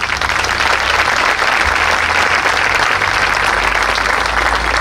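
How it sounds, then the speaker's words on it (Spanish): Sustained applause from an audience at a memorial music concert in Arguineguín, a thick, even roar of many hands clapping, loud and close, continuing without pause and with no voices over it. "Que le diéramos un aplausito a toda esta gente."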